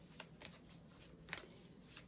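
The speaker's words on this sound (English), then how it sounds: "I'm just going to do a couple more shuffles." Tarot cards are shuffled by hand, with several soft riffling bursts and sharper snaps, close and fairly quiet, with no talk.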